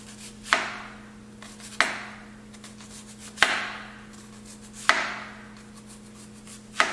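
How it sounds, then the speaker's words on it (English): A knife slices food into thin slices on a kitchen board, giving five sharp, evenly spaced chops over a low steady hum in the background. "all you're gonna do is just slice it into kind of thin slices"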